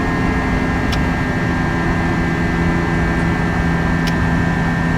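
Jet engines of an Airbus A320 in the FSLabs flight simulator spool down after the throttle is pulled back, a steady loud broadband roar with a constant whine running throughout.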